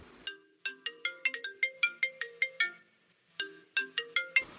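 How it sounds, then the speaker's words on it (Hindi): A bright electronic phone ringtone plays a quick repeating melody of chiming notes, pausing briefly before the tune starts again, clear and close with no talking. "अचानक मेरे फोन की घंटी बजी"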